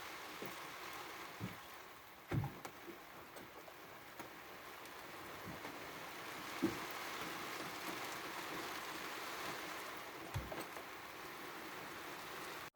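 Rain falling on a boat at anchor in the Caribbean, a steady soft patter with scattered heavier drops and a few brief knocks, fairly faint and continuous without voices.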